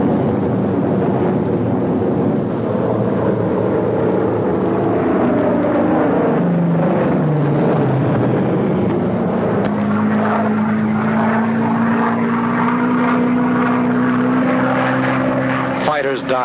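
A propeller plane drones steadily overhead, its engine pitch sliding lower and then holding a sustained hum, loud and close throughout.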